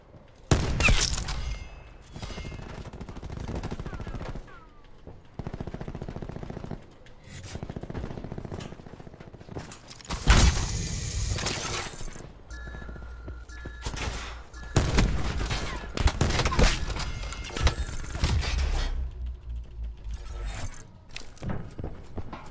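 Gunfire in the video game Call of Duty Black Ops 4, with loud sharp shots and bursts arriving in scattered clusters amid footsteps and game noise, and occasional talking.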